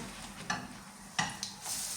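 Pancakes (oladky) frying in a pan give a quiet, steady sizzle, with a few faint clicks of utensils against the cookware and no talking.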